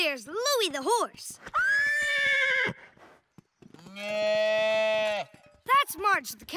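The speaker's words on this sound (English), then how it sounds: "There's Louie the horse." Cartoon horse gives several loud, wavering whinnies in bursts at the start and end, with a long sustained cartoon animal call in the middle, alone without talk.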